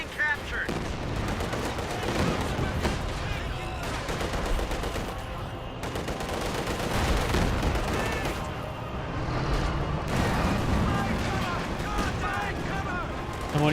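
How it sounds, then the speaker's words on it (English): Katyusha rocket barrage and gunfire in Company of Heroes 2, a dense continuous roar of launches, explosions and rattling shots that holds steady for the whole stretch, with commentary speech running over the battle. "We're doing now the Katyusha barrage."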